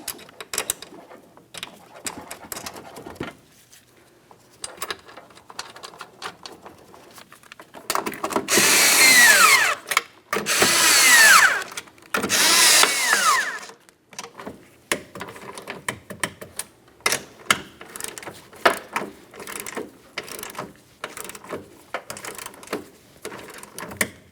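Power tool snugging three mounting nuts on a tow mirror for a 2000-2006 Chevrolet Tahoe: three loud, close bursts of whirring lasting about a second or two each, separated by short gaps, amid quieter handling clatter.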